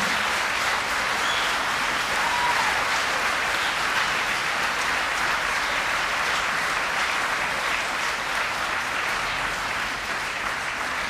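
Graduates receive a standing ovation at a university autumn graduation ceremony, with a large crowd clapping in a loud, continuous wash that holds steady for the whole stretch.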